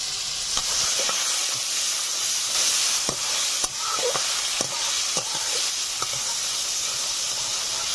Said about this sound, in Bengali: টমেটো কুচি, কাঁচা লঙ্কা চেরা, লবণ, আদা রসুন বাটা।